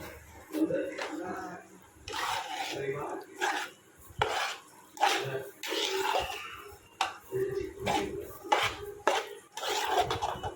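Browned mawa sweet mixture is worked in a metal pan, with rhythmic, repeated scraping and clanking strokes of a utensil against the pan, close and moderately loud.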